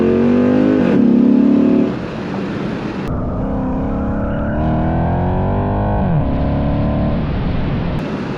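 Dodge Magnum SRT8 V8 engine revving through downshifts, heard from inside the car: a loud, continuous rumbling growl that rises and falls in pitch as the revs climb and drop between gears.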